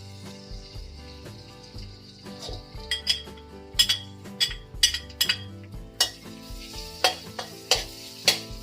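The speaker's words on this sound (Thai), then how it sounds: "แล้วเราก็จะใส่กระเทียมกับพริกลงไปนะคะ" Garlic and chili fry in a little oil in a pan for a minced pork basil stir-fry, a steady sizzle broken by regular, fairly loud clinks of a utensil stirring against the pan over a tonal background.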